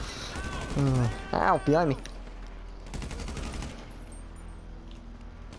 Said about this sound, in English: I'll shoot him in the feet. Shoot him in the feeties.